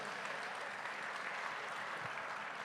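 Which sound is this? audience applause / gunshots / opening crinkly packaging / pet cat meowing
audience applause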